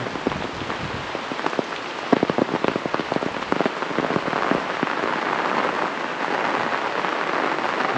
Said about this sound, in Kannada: ಇವಾಗ ನೋಡಿ, ಮಳೆ ಬರ್ತಾ ಇದೆ, ಚೆನ್ನಾಗಿ ಬರ್ತಾ ಇದೆ ಇವಾಗ